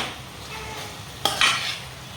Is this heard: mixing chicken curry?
yes